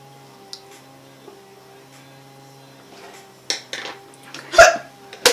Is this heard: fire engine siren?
no